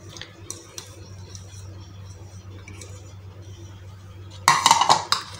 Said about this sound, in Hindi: इसको भी हम अच्छी तरह मिक्स कर लेंगे।